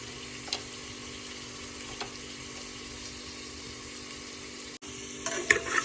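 Cashews sizzle steadily in oil in a pan, a low, even frying hiss close by, with a brief clatter near the end and no talking.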